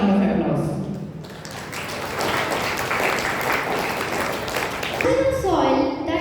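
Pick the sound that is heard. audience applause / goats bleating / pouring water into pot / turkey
audience applause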